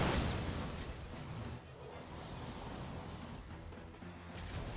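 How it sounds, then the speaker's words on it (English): Shrapnel rounds from mortar buggies burst in C&C Generals Zero Hour, a dense, continuous rumble of small game explosions that stays loud for the whole stretch with no voices over it. "you see the small shrapnel explosions with the sound effect. That's the shrapnel right there."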